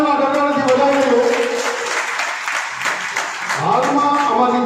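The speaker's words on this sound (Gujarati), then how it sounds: "અમારી ટીમ માટે એમાં તાળીઓના ગણગડાટથી વધાવી દો" A ceremony audience honouring a team at a Ramanandacharya birth-anniversary celebration breaks into loud, sustained applause, dense clapping filling the whole stretch while a voice talks over it.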